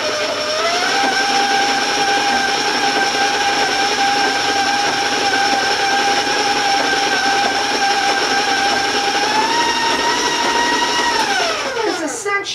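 A stand mixer runs at high speed cutting butter into flour for shortbread coconut cookies, a loud steady motor whine with tonal hum that holds, then winds down and slows near the end.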